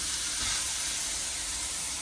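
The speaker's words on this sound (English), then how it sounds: "searing hot pan" Steak sears in a searing hot pan with a steady, bright, hissing sizzle that stays loud and constant throughout, with no talking.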